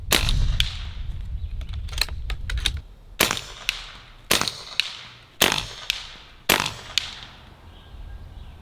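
A Beeman Chief II .22 air rifle fires 13.43 grain pellets at a 70-yard target: a series of sharp, separate cracks, each trailing into a short ring, spaced roughly a second apart.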